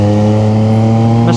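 A 2025 CFMOTO 675NK motorcycle engine runs loud and close, holding a steady, even drone with strong low harmonics for the whole short stretch, with only a slight lift in pitch near the end.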